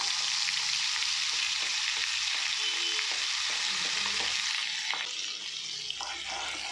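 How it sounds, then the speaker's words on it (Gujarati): Paste added to a mixed vegetable sabji over a slow flame, a constant close sizzle with scraping stirring strokes that ease off toward the end, no talking. "હવે આપણે જે પેસ્ટ કરેલી હતી એ ઉમેરી લેવાની છે."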